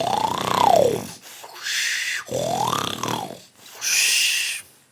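A performer on a comedy show imitates circus tigers roaring with his voice: two long, rising-and-falling growling roars, each followed by a breathy, hissing snarl, loud and close.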